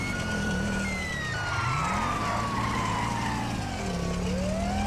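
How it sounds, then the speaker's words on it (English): Police sirens in GTA Online wail continuously, rising and falling in long sweeps over a steady roar of vehicle noise, loud and sustained throughout. "Those sirens do not sound good."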